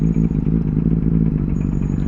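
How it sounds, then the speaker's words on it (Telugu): A Benelli 600i motorcycle with an aftermarket Ixill exhaust rumbles loud and close, a deep bassy steady engine throb with slight fluctuations at night. "హై బేస్ అండ్ లౌడెస్ట్ ఉంటుంది ఎగ్జాస్ట్."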